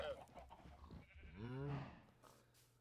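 Minecraft sheep and pigs bleat and grunt in the game. A drawn-out bleat stands out in the middle. Low background sounds and faint voice-like tones sit under it.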